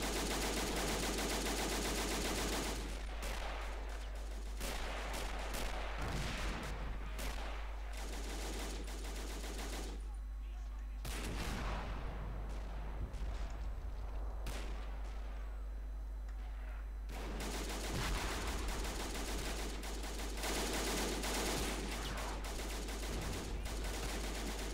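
Gunfire and artillery from the video game Men of War Assault Squad 2 in a Dunkirk battle, with bursts of machine-gun fire and heavy booms that come and go over a steady low rumble.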